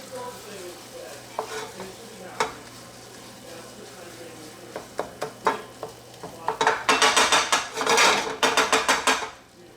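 Spoon stirring brown roux with clarified butter in a pan, scraping in sparse strokes at first, then quickening into dense, loud scraping and soft sizzle toward the end.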